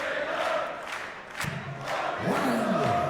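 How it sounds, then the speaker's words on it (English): A darts crowd at the European Darts Championships chants "there's only one Phil Taylor" in a rhythmic, swelling sing-along that fills the hall, rising in volume toward the end. "He's not bothered about the crowd singing there's only one Phil Taylor"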